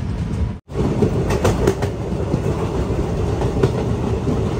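A passenger train rolls along rails in the Kashmir valley between Banihal and Srinagar, a steady loud rumble from inside the carriage with faint rhythmic clicks of wheels on track joints and a brief dropout near the start.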